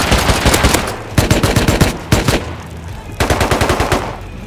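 AK rifle fire in the video game Rust, with loud rapid automatic bursts broken by short pauses: a long string, then two shorter volleys, then another sustained burst near the end.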